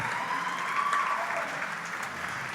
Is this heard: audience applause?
yes